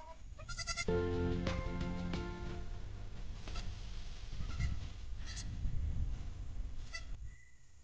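A newborn goat bleats repeatedly in short, wavering cries, fairly close, over a steady background rumble of wind or handling noise.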